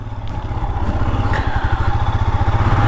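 A Royal Enfield Scram 411 motorcycle rides along a muddy road, its single-cylinder engine thumping in a fast, even pulse, loud and close, rising slightly as it pulls.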